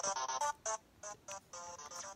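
A track from the Undertale soundtrack plays as menu music in Super Smash Bros. Ultimate, short bright chiptune-like notes in a quick choppy rhythm, faint and alone.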